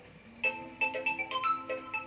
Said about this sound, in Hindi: एक फोन आ गया